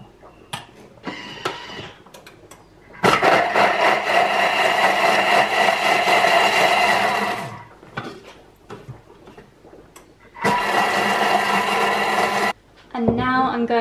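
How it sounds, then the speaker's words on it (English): A Thermomix blitzes chopped ginger in two loud, close bursts of whirring blade noise, each lasting several seconds, with quieter clinks and handling sounds before and between them. "And I'm just going to blitz this up."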